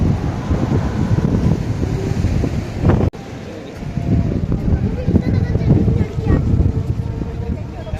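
Sea waves breaking against rocks at Kanyakumari under strong, steady wind, a loud roaring wash up close with a brief break partway through.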